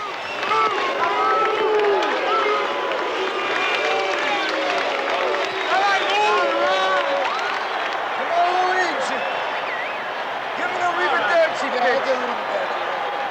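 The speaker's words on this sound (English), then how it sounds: "the partisan crowd pleads, Lou, Lou, Lou" A partisan stadium crowd at a 1978 World Series baseball game between the Yankees and Dodgers chants a name in a dense, continuous swell of voices, loud and sustained, while an announcer talks over it.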